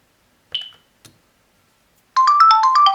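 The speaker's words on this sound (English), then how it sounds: "if you misplace your phone, you can just go ahead and hit the page button." A Gigaset E560A cordless phone handset rings when paged from its base: a couple of faint clicks, then a loud, close electronic ringtone melody of rapid alternating tones starts abruptly.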